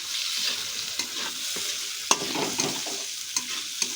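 Chopped tomato sizzles and fries in a pan for a vegetarian moong dal, with a spoon scraping and stirring in sharp clicks over a steady, close frying hiss.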